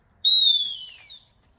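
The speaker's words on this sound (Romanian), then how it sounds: "Fluier de apel." A dog training recall whistle gives one clear, high, steady blast during retrieve training, tailing off after about a second, close and alone with no voices.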